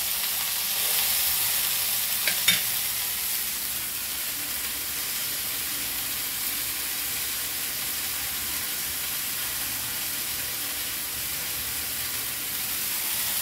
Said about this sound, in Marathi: मग कसं फ्राय होत आहे तेवढं.